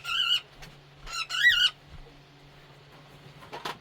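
A small bird gives a few sharp, squeaky chirps in short bursts, close by, with quiet pauses in between.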